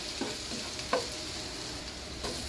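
Garlic sizzles in hot oil alongside ginger in a pan, a soft steady frying hiss with a few faint stirring scrapes, quiet and close with no talking.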